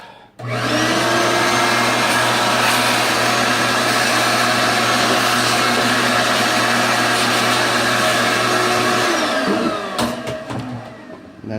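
A vacuum cleaner sucks dust off a guitar during control cavity work. Its steady, loud whine starts abruptly, holds for about nine seconds and then winds down, followed by a few handling knocks.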